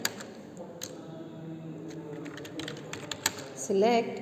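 Someone types an SQL query on a computer keyboard, a light run of irregular clicking keystrokes at close range, with a brief louder burst near the end.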